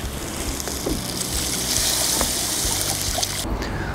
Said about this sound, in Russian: Добавили литра 4 воды.